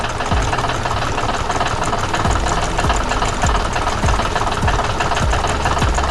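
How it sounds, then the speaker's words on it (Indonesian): Red tractor engine running on a farm, a loud steady rumbling drone with rhythmic low knocking throughout, close and continuous. "Traktor merah berlari dengan cepat di tengah pertanian yang hidup."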